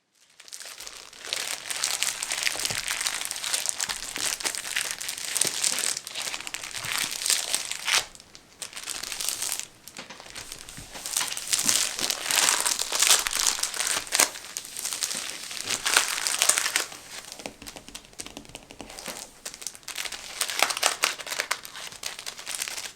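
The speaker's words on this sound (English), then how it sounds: "Now, let's try some plastic wrapped envelopes. It's got a nice sound." Plastic-wrapped envelopes are handled up close in a quiet room, giving a continuous, bright crinkling and rustling that carries on for over twenty seconds with only brief pauses.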